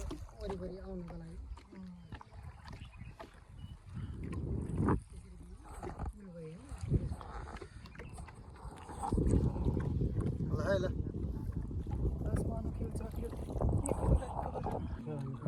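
Boat out on the Kulekhani dam reservoir in Nepal, a steady low rumble with wind buffeting the microphone, sometimes swelling louder, heard under nearly continuous nearby talk.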